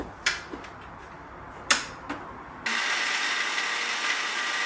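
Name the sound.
mixer grinder grinding cashews, oats, dates and cocoa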